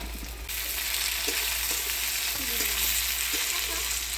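Tomato and onions fry in a pan with a dense, continuous sizzle, while a spoon stirs and scrapes in occasional soft strokes; a steady low hum underlies it, with no talking.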